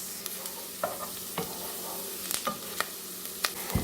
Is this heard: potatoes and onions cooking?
yes